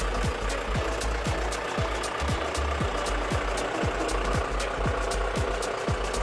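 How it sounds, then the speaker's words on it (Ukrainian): A John Deere 6420 S tractor engine idles with a steady, regular knocking chug, loud and close, with no other sounds. "На холостих обертах от так він працює."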